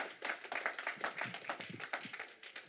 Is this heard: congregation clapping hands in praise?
yes